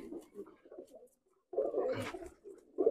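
Young and adult Nildumma pigeons coo in low, throaty bursts, a short pause splitting the calls before a louder, fuller stretch, with a voice faintly mixed in.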